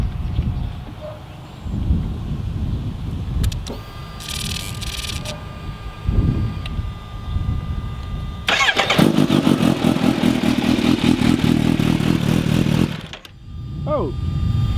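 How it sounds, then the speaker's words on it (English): A motorcycle fitted with an Akrapovic full exhaust cranks, starts after a pause and idles with a loud rough rumble for several seconds before cutting off, with some talk before and after. "Akrapovic exhaust, full exhaust on this motorcycle."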